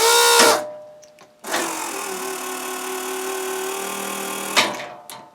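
A small homemade hydraulic power unit drives a cylinder, with a short motor burst, then a steady buzzing pump whine for about three seconds that cuts off abruptly.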